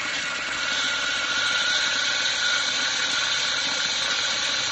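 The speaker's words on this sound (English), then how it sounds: "Air it up. These tires call for 30 pounds." Compressed air hisses steadily into a water-filled tractor rear tire, a loud continuous rush held close for several seconds without any talk.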